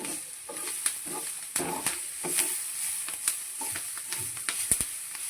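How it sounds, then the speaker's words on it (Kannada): Grated coconut fries in oil in a pan, crackling and sizzling up close while a spoon scrapes and stirs in irregular taps and clatters throughout. "ಆಯಿಲ್ ಹಾಕಿದ್ನಲ್ಲ, ನಾನು ಫ್ರೈ ಮಾಡಿದರೆ ಡಿಫ್ರೆಂಟಾಗಿ ಕಾಣುತ್ತೆ"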